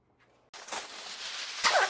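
Cold fresh water pours over beans in a pot as a steady close splashing rush that starts abruptly and keeps going, swelling at the end as the pot fills to the top.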